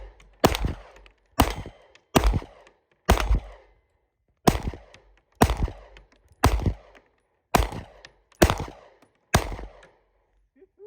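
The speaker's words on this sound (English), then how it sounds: "those first shots were a little rough" Ten sharp pistol shots from a Dan Wesson DWX crack out at a range, loud and close, fired at a steady, slightly uneven pace with a short gap partway through.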